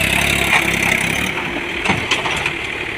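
A tractor engine labours under a heavy load in a field, a rough, steady mid-pitched drone with uneven knocks and thumps throughout, fairly close.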